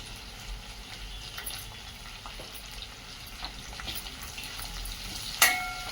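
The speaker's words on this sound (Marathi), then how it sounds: "हलवून घेऊ अद्रक लसणाची पेस्ट टाकून घेऊया" Ginger-garlic paste sizzles and spits steadily in hot oil in a pan while being stirred for a vegetable pulao, with a brief sharp scrape near the end; no voices.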